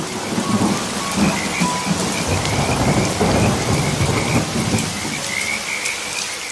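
Heavy rain pours steadily with rolling thunder rumbling underneath, a dense continuous roar with faint frog calls in the background.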